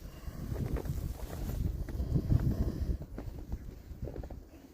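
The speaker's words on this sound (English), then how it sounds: "You can tell it's really windy here." Strong wind blowing outdoors after an overnight snowstorm in Pennsylvania, a steady low rushing buffet of gusts against the microphone that swells and eases throughout, with no voices.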